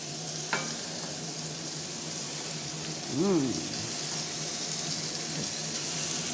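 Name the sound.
meat frying in a pan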